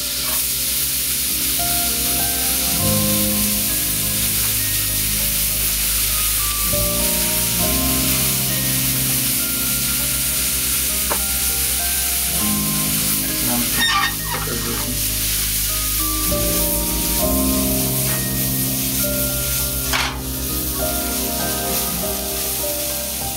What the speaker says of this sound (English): And toss in the onion.